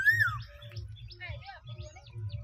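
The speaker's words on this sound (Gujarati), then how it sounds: "શાંત વાતાવરણ છે કોયલ બોલે છે મસ્ત એનો મીઠો અવાજ" A koel calls near a village farm field, a bright falling cry followed by softer repeated chirps, clear and fairly close over a low steady background rumble.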